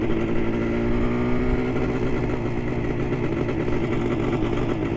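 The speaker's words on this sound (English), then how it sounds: "these A7ss, you really got to love the sound from these exhaust pipes and the intake." A Kawasaki A7SS 350 two-stroke motorcycle runs steadily close by, its exhaust pipes and intake giving a continuous buzzing engine note that holds an even pitch throughout.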